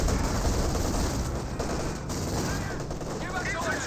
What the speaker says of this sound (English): we've got the Royal Engineers trying to fire away with their Vickers K LMGs